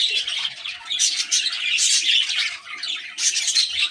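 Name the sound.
pet lovebirds squawking and chirping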